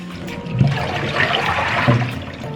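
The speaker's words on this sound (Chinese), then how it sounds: "泡好的花菜我们就简单给它淘洗一遍" Soaked cauliflower is rinsed in water in a home kitchen, making a steady, close rush of splashing and swirling water with a couple of sloshing bumps.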